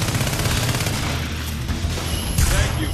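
Shotgun blasts from the video game NeverDead, fired in a sewer level: dense, booming bursts packed closely together over a steady low rumble, loud and continuous throughout.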